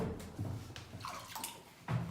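Water runs and splashes steadily in the tunnels beneath Poznań's main railway station, a continuous wash with a few brief surges that echo in the enclosed space.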